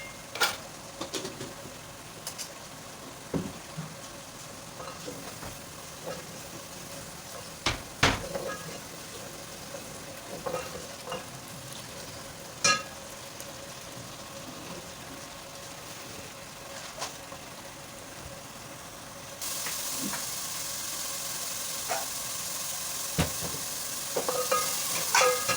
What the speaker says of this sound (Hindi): लहसुन अदरक का पेस्ट डाल देते हैं, 1 टेबल स्पून भर के।